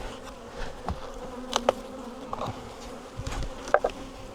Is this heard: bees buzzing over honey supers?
yes